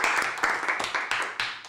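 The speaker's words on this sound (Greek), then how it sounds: "χειροκρότημα." Short burst of audience applause during a Greek election-night panel discussion, several swells of close clapping rising and fading over under two seconds.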